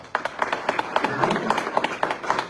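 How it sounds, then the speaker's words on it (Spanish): Audience applause for a doctor speaking at a presentation event, a continuous patter of many hands clapping with crisp individual claps at a moderate distance. "Fuerte las palmas, por favor, para el doctor"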